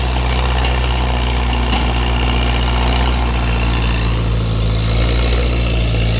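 A water pump engine revs at a pond, loud and close, a steady throbbing drone with a constant low rumble and no noticeable pauses.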